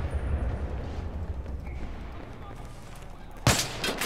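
A single sharp gunshot from the video game Battlefield 3 cracks out loudly near the end, after several seconds of low rumbling battlefield ambience.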